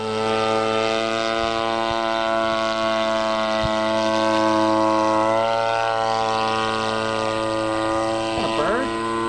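A Bud Nosen experimental model airplane drones steadily with a strong, even propeller-engine tone through the whole stretch, rising slightly near the end.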